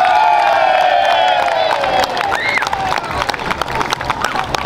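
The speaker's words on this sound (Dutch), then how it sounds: "Ja, geef nog één keer een enorm applaus." A crowd at a carnival prince's farewell ceremony in a Dutch market square claps and cheers loudly for Prince Franciscus LVII, whoops and a sustained vocal tone riding over continuous close applause.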